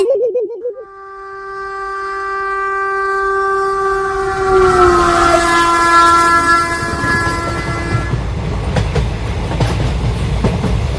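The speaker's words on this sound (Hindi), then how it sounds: "वो देखो, आ गई ट्रेन।" A train arrives at a station, announced by a long, loud horn blast that bends slightly in pitch. The heavy rumble and clatter of the passing cars follow close by.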